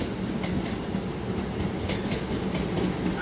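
KRL commuter train at a busy Jakarta station, a steady rumbling roll with faint clickety-clack of wheels on rails, continuous and moderately near throughout.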